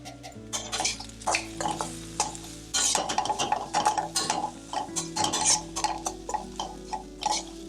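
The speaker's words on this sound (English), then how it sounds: "So this I'm going to mix it properly" Poha being mixed with turmeric powder in a pot, a rapid run of close scraping, ticking clicks of spoon against metal, steady and busy throughout with no talk.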